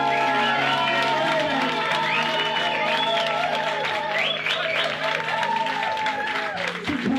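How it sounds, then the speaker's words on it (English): Crowd at a gathering applauds and cheers, sustained clapping under tonal music or singing, with whoops and voices scattered through, fairly loud and continuous. "can we all give a massive, massive, massive round of applause to Monica for organising everything"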